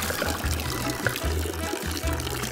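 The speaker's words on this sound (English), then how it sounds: "First, you pour the water in." Water poured into cups for a children's walking water science experiment, a steady close pour with light splashing over a continuous low musical background.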